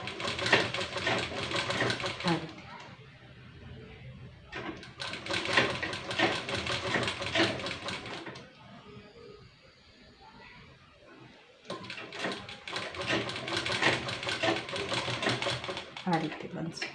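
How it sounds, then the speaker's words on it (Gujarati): Sewing machine stitching piping onto a princess-cut blouse, running loud in steady bursts with short pauses between runs, while someone talks over parts of it. "આ રીતે જે સિલાઈ લીધેલી છે તેની ઉપર આપણે સિલાઈ લગાવતી જવાની છે"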